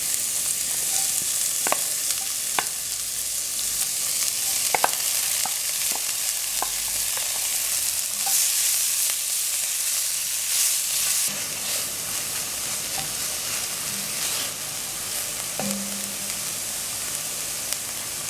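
Chopped onion, pimento, garlic and mixed vegetables frying for Trinidad-style vegetable rice, a steady close sizzle with occasional stirring clicks and scrapes of the spoon in the pot, no voices.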